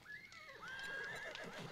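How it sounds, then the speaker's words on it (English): A horse in the survival video game 7 Days to Die whinnies in one long rising and falling neigh, close and clear, with a faint clip-clop of hooves underneath. "let's go back to our horse"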